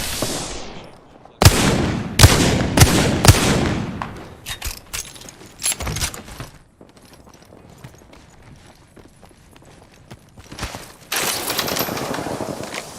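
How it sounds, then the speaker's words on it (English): Enemy gunfire in the shooter Apex Legends: sharp, loud volleys of rapid shots in the opening seconds, then quieter scattered cracks and a final dense burst of fire, with little or no talking. "The enemies are shooting at me."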